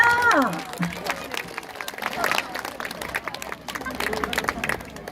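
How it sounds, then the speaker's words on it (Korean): Audience applause at a community event where a child is about to give an oratory speech themed on the film Ode to My Father; scattered claps build after a brief voice at the start, with chatter mixed in. "여러분 뜨거운 박수를 한번 모셔보도록 하겠습니다. 박수 주세요!"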